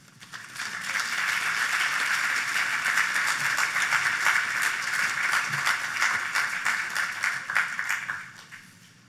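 A large crowd applauds a keynote speaker at a family weekend event, the clapping swelling quickly into a steady, dense roar and holding for several seconds before tapering off.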